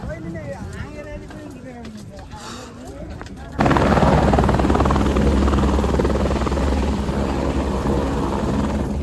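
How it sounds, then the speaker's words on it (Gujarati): A helicopter's rotor roar suddenly swells and stays loud and close as it arrives near snowy mountains at Kedarnath, drowning out the faint rhythmic thumping and voices heard before it. "તો હેલિકોપ્ટર લેવા માટે આવી ગયું છે અમને."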